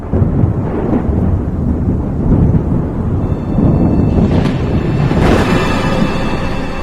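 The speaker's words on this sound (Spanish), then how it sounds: "Bramó a continuación el trueno y retumbó por encima de mi cabeza." Radio drama thunder effect, a loud deep rumble rolling overhead and swelling in waves, with a sharper crack near the end over a continuous wash of rain.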